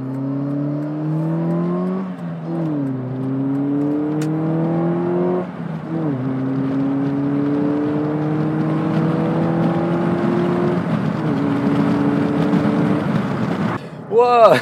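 A tuned car accelerates hard during a 0 to 100 km/h run, heard from inside. The engine's drone climbs steadily in pitch, drops briefly at each gear change, then climbs again, loud and continuous throughout.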